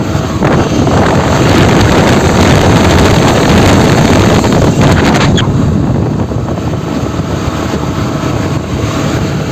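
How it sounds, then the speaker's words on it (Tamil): A Honda Shine 125 BS6 motorcycle gives a loud, steady engine drone while riding, with heavy wind buffeting against the microphone, continuous and close throughout. "ஸோ இதுதான் வந்து இன்ஜின் ஓட நாய்ஸு."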